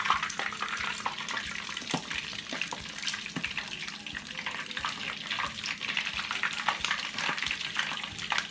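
Hotdog chimichangas sizzle and crackle steadily in a shallow layer of hot oil as the bread browns and crisps, a dense continuous frying hiss with scattered pops throughout.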